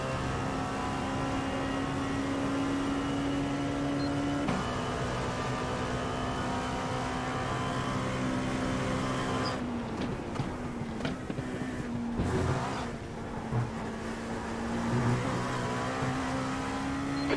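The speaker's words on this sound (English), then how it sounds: "We do have James Cato in the faster car coming up on us." Faster prototype race car approaching and passing during the IMSA Rolex 24 at Daytona, heard from inside a slower car as a steady loud engine drone with a pitch shift and whooshing disturbance as the other car goes by.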